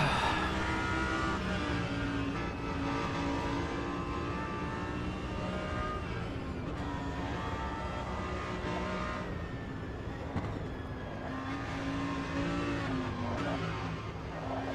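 Race car engines drone continuously on the Nürburgring Nordschleife in the Automobilista 2 racing game, a steady layered whine with rising and falling pitch as cars pass, with no speech.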